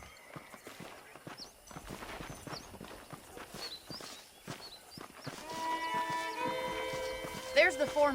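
Horses walk in Red Dead Redemption with soft, irregular clip-clop hoofbeats and ambient game sounds, with talk throughout; a swelling musical score takes over near the end.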